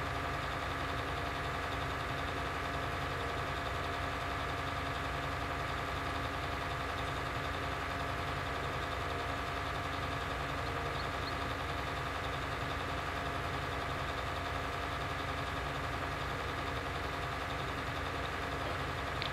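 Steady tractor engine hum from a farming video game, droning at constant speed on autodrive, fairly loud and continuous with no talk over it.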